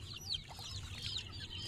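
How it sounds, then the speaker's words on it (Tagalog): Many chicks cheep in a quick overlapping chorus of high peeps, faint and close, lasting under two seconds with a low rumble underneath. "Ang daming ano sisiw"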